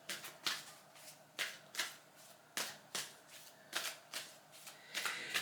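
A deck of cards is shuffled repeatedly, about a dozen crisp riffling bursts in an uneven rhythm, close and quiet with no talk.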